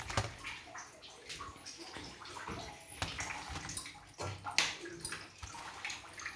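Running tap water splashes as mint leaves are washed for chutney, an uneven gush and slosh with rising and falling bursts, and no talking.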